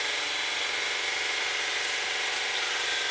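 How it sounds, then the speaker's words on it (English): An air compressor runs in a workshop where a Ford engine is being worked on, giving a steady, loud, continuous mechanical hiss and hum with no pauses and no talk over it. "The air compressor's turned on."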